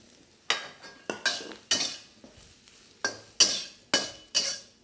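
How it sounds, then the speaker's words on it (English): Mushrooms searing and being stirred in a hot wok during a chicken and mushroom stir-fry, heard as a series of sharp scraping spatula strokes against the pan, close and rhythmic with brief sizzling between strokes. "I'm actually going to sear my mushrooms first because I want my wok to be a really nice and clean, but also a really good heat."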